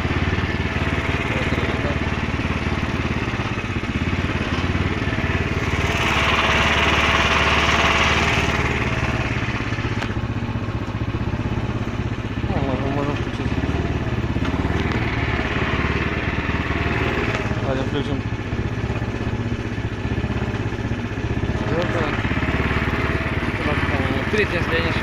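The small engine of a homemade, unfinished loader drives in reverse gear, a steady, continuous mid-pitched drone with a faint rattle running close by throughout, while someone talks over it at times.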